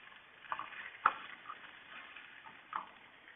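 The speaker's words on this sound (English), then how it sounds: "the onion is starting to sizzle a little bit." Onion sizzling quietly in a pan, a soft, faint frying hiss broken by a few light stirring clicks and taps.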